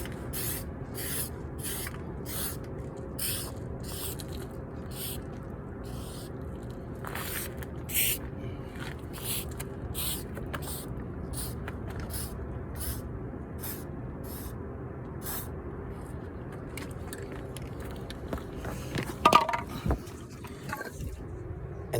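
Textured spray bed liner undercoat sprayed from an aerosol can onto sanded metal trim over rust, heard as a series of short, sharp hissing bursts with brief pauses between them, close and fairly even, with no speech.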